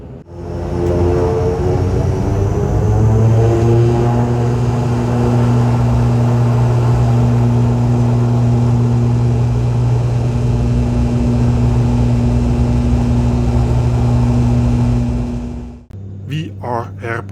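Turboprop airliner engines during the takeoff roll, a loud steady drone with rising tonal whine that holds for about sixteen seconds before cutting off into quieter cabin noise.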